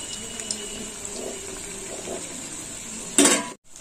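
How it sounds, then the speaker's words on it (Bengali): Bottle gourd pakoras fry slowly in oil with a steady, soft, close hiss, broken by a brief louder clatter of a utensil near the end. "এরকম ধিমে আছে ভাজতে হবে পকোড়াগুলোকে"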